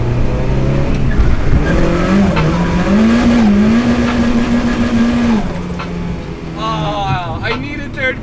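A Nissan S13 drifting at night: the engine drones and revs steadily as tyres squeal in a long wavering tone, then the noise eases and a voice speaks over it at the end.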